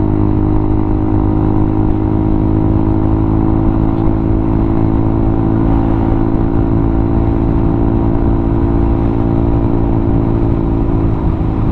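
A Honda Click scooter rides close behind on a solo ride in Pagadian, Zamboanga del Sur, its steady mid-pitched engine whir continuous and loud, blending with the rider's own motor and wind with no talking.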